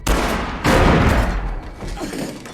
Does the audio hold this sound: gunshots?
yes